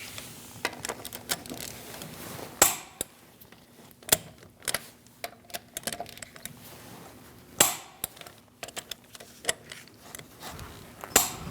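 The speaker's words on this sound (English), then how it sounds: "We're going to torque our wheels to 95 foot-pounds. We're going to do that in a crisscross pattern." Torque wrench tightening the lug nuts on a 2000-2006 Mini Cooper rear wheel in a crisscross pattern, giving sharp mechanical clicks and clacks at irregular intervals over a quiet garage background, with no talking.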